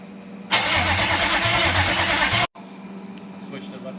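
A Chevrolet Caprice pre-runner engine cranks with a loud, steady burst lasting about two seconds, then cuts off abruptly. A quieter mechanical hum continues afterward.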